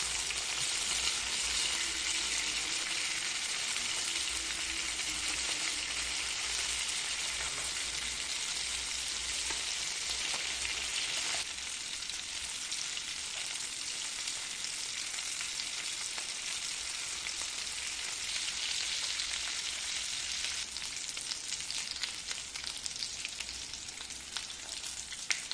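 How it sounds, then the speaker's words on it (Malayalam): Chicken pieces frying in a pan until browned for a chicken chilli dish, a steady bright sizzle that runs continuously and fairly quietly with no voices. "ഇത് 2 സൈഡും ബ്രൗൺ കളർ ആവുന്നത് വരെ ഫ്രൈ ചെയ്യാം."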